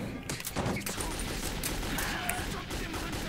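Gunfire from the video game Metro 2033, a dense, continuous burst of shots and impacts filling the whole stretch, loud and close, with game noise and some voice underneath.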